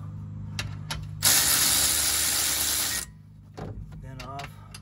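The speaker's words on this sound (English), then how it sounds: "I'm gonna use my electric wrench" An electric wrench whirs and ratchets loudly for about two seconds, loosening a 17 mm bolt during a rear brake rotor and pad job on a 2014-2019 Toyota Highlander, with brief talk before and after.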